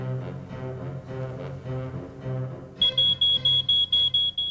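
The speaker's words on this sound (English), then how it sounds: "A smoke detector can save your life and the lives of your family." A smoke detector gives a series of about eight loud, piercing beeps in an even rhythm, coming in after a stretch of droning tonal music and continuing to the end.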